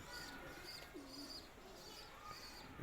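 Soft pigeon cooing, low repeated throaty calls drifting in and out against a quiet hiss, fairly distant and faint.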